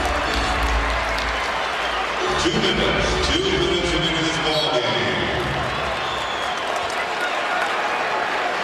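Basketball arena crowd at a Lakers versus Raptors game in 2006, rumbling and cheering for Kobe Bryant late in the game, a steady roar with clapping underneath commentators talking over it.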